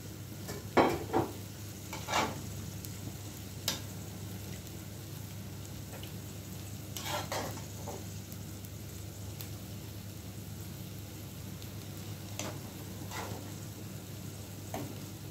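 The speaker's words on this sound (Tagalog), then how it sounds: "ihalo na natin yung ating nilagang itlog" Boiled eggs being stirred into simmering chicken sauce in a pan, a low steady bubbling simmer with occasional spoon scrapes and clinks, fairly quiet and alone.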